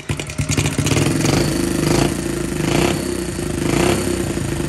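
Honda CT70 motorcycle with a new, not fully mounted exhaust, running close by: a loud, rough small-engine putter that rises and falls in a few revving swells before settling into an idle.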